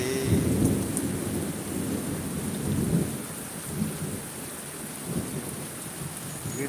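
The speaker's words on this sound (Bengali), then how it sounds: "বিদ্যুৎ চমকানো শুরু শেষ নাই এখনো বাতাস অলরেডি থেমে গেছে" Thunder rumbling during a heavy rainstorm with lightning, low rolling booms over a steady hiss of rain falling on surfaces, the wind already calm.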